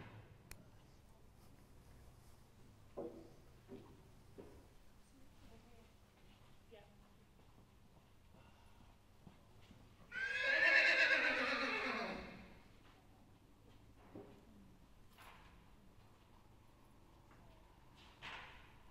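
A horse whinnies loudly in an arena, one long descending neigh lasting a couple of seconds, standing out against faint background noise and occasional thumps.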